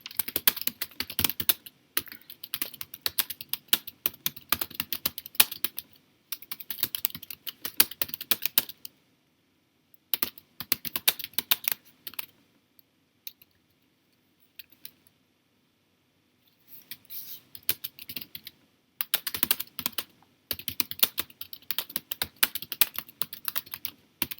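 Keys clatter on a computer keyboard in steady quick bursts, broken by a few silent pauses, close and fairly quiet with no voices.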